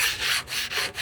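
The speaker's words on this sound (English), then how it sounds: "So I'll just give this a bit of a scrape." A scraper rasping across an old, ten-year-old BBQ grill in several rhythmic back-and-forth strokes, close and fairly loud with no talking.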